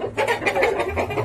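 A chicken in a coop clucking in a quick run of short, close, fairly loud calls.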